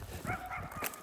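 A puppy barks a few times outdoors on a disc golf course at a lake, short sharp yelps over a low background rumble, fairly close.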